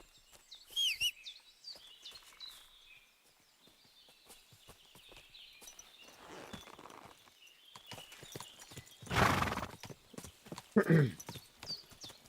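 Horse hooves clip-clop steadily in a video game while the rider follows a path toward an herb woman's place, with faint bird calls and a couple of louder snorting bursts near the end.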